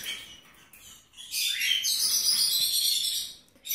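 A yellow-cheeked cockatiel gives a run of shrill, chirping calls close to the microphone, with a few brief softer notes around it.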